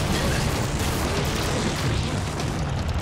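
A loud, sustained explosive blast from a Power Rangers muzzle blast attack, a continuous booming roar that fills the whole moment without a break.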